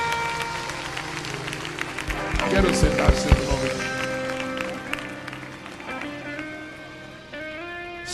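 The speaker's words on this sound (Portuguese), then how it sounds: "Agora com essas duas mãos levantadas, aplauda o melhor que você puder." A church congregation applauds at a Portuguese-language service, with a burst of crowd clapping swelling briefly under music and a speaking voice before fading back.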